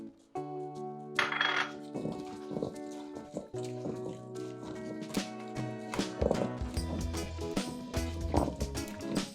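Potatoes tossed with garlic and lemon seasoning clatter in a metal bowl or pan, a steady run of close knocks and clinks with scraping, alongside bright ringing tones that sustain under the mixing.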